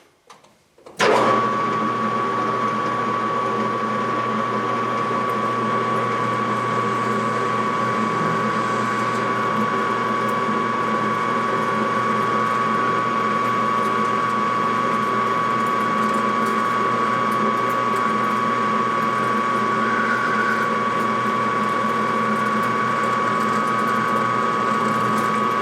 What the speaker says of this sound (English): get a boring bar going in here and get this thing up to size